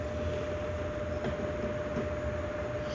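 Toy train station set running its sound effect: a steady, fairly loud rumbling rail-like noise with a constant tone held throughout, heard alone with no talking.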